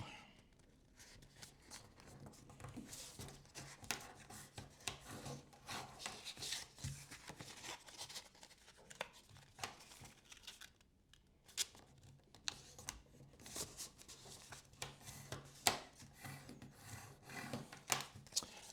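Paper being folded and creased by hand while making a codex: quiet, intermittent rustling, scraping and soft crinkles close by, irregular bursts with brief pauses, no talking.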